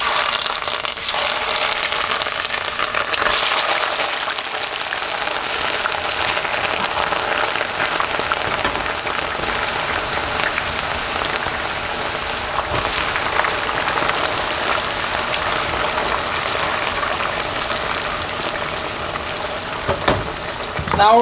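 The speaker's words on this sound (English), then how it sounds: "we're ready to start frying" Sliced pheasant back mushrooms sizzle and crackle steadily in a hot frying pan, a dense, continuous frying hiss with occasional pops, close and loud with no talking.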